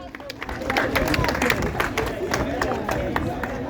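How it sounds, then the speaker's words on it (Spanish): Audience applause at a book festival in Peru, steady clapping from a crowd that fills the whole stretch, with some hubbub mixed in. "Fuerte los aplausos para él."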